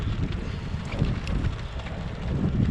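Steady headwind buffets a bicycle rider's microphone on a long-distance road ride, a continuous loud low rumble with gusty swells and no break.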